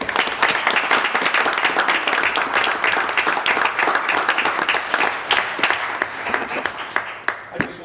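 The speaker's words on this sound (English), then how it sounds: "let's give them a round of applause." A city council meeting audience gives a sustained round of applause, dense and loud, with murmuring voices underneath and a few scattered claps trailing off at the end.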